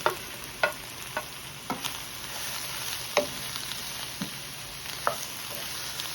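Leeks and mixed vegetables sauté in a pan with a gentle, steady sizzle, punctuated by sparse, irregular clicks and scrapes of a utensil stirring; close-up, moderately quiet, with no talking.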